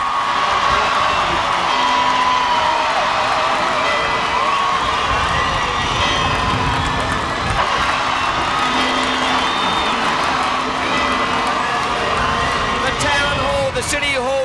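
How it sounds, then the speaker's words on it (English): A large crowd celebrates the Newcastle Knights in a packed public gathering of all ages, giving a loud, continuous roar of cheering, whoops and shouts that holds steady throughout. "Listen to the crowd."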